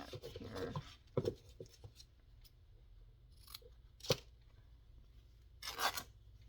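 Scissors snip close by in a quiet room, a few scattered cuts early on and a couple of crisp, louder snips later, with soft rustling between.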